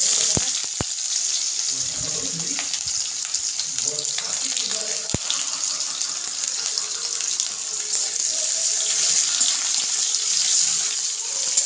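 Onions fry in a hot pan for a curry, giving a steady bright sizzle that continues evenly throughout at close range, with a few faint clinks and a brief murmur of voice early on.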